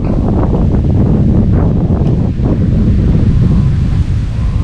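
Strong stormy wind roars continuously and loudly across the microphone while a Thai chula kite is flown, with a steady buffeting rush and no talk over it.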